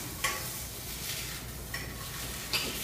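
Fish fries in a pan with a soft, steady sizzle, punctuated by a few light clicks of a utensil against the pan; fairly quiet and without talk.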